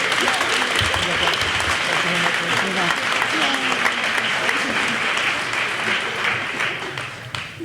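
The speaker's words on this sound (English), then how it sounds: "Please join me in giving a round of applause for Natalie Vu." A crowd at a 2022 spring sports awards ceremony gives a dense, steady round of applause for an athlete, loud and close, with voices audible under the clapping as it slowly tapers toward the end.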